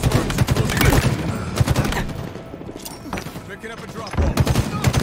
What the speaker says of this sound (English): he's got a shotgun, watch out,